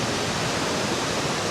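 Steady broadband rush of water pouring over Cascade Falls among granite rocks, a continuous hiss with no breaks, fairly loud and close, with no voices over it.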